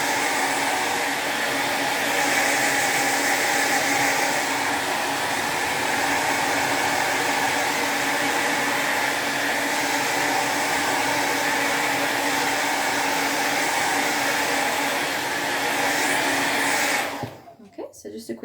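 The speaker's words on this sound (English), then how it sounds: "give the rollers a blast of my hairdryer" A hair dryer blows loudly and steadily on hair rollers, then cuts off abruptly near the end.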